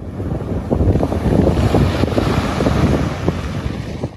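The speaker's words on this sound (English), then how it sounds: "A weekend of waves, wind, lots of wind." Strong coastal wind buffets a small microphone on the northwest coast of Ireland, a loud continuous roar with gusty low rumbles and waves breaking underneath, no voices.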